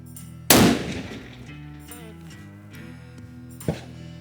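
A single loud, sharp rifle shot from a Victrix Throne chambered in .375 CheyTac at an outdoor range, with a decaying echo and a fainter sharp report about three seconds later.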